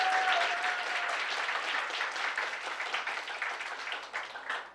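Applause from the audience at an alternative education policy forum, fairly close and steady, gradually thinning toward the end.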